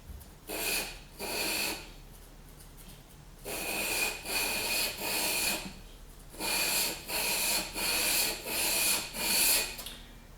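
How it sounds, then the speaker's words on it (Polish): A chisel is rubbed back and forth on a DMT diamond sharpening plate, giving rhythmic rasping strokes in three close, steady bursts separated by short pauses. "na tej płytce nie ma problemu, żeby również doostrzyć sobie właśnie nasze dłuta"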